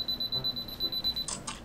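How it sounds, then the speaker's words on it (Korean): A camera's two-second self-timer beeping, heard as a repeating series of short, steady, high electronic pips ending with a brief burst of clicks near the end; quiet and close, with no speech. "여기 2초 타이머가 걸려있네요."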